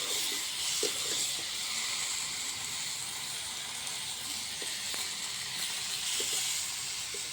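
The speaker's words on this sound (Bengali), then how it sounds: "মাংসটা এখন ভালো করে কষিয়ে নেব" Meat fries in a pan, a steady broad hiss and sizzle held close and fairly quiet throughout, with occasional faint clinks and no talk.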